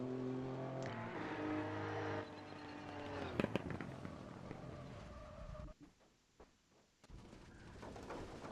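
A rally car charges along a gravel stage of Rally Pačejov, an Eastern European Rally Championship round, past deep roadside ditches. Its engine drones and shifts pitch under load, then bursts into rough, crackling noise and a brief lull before picking up again.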